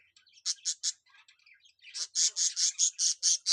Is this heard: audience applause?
no